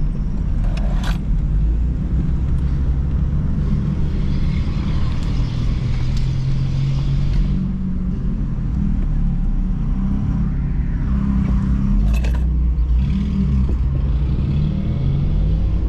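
A 2000 Honda Civic LX with automatic transmission drives along, its steady low engine rumble and road noise continuous and fairly loud from inside, with subtle shifts in pitch as the gearbox changes gears.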